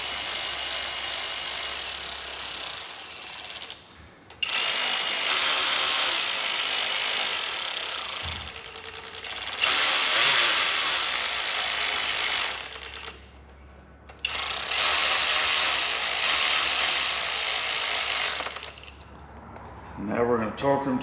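A ratchet snugs down bolts on a Ford 3.5 EcoBoost engine from a 2013–2014 F-150 during assembly, in long, loud bursts of tool noise broken by short pauses.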